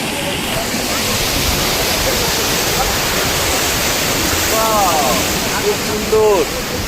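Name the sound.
sea waves breaking on the shore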